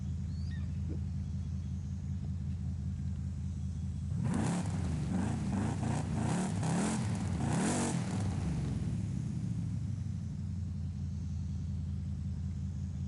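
A Chevrolet Bel Air with white walls and pearl metal-flake paint in Forza Horizon 5 idles with a steady low rumble, then revs up in a few loud surges before settling back to idle.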